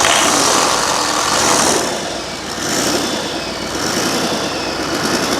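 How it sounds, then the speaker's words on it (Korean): A Range Rover Vogue engine, recently repaired for oil spraying from the blowby line, runs at a steady broadband idle close by for several seconds with no talking over it. "그거 정상적으로 수리가 됐는지 확인하기 위해서 엔진 시동을 한번 걸어볼 겁니다"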